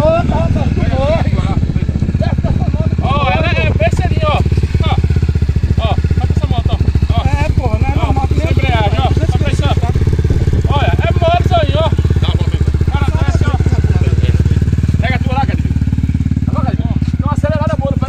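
Motocross motorcycle engine running steadily for the whole stretch, loud and close, with a constant low drone and no sharp revs, while several people shout and talk excitedly over it.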